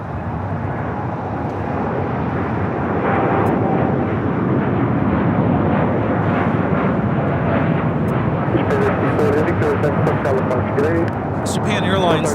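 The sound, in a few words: Japan Airlines Boeing 787-9 Dreamliner taking off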